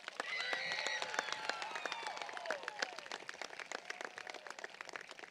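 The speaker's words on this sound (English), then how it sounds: "So class, please join me in giving them a huge round of applause." A graduation ceremony audience for a high school class of 2024 bursts into sustained applause, a dense patter of many hands clapping with a few whistles and cheers rising above it, slowly thinning toward the end.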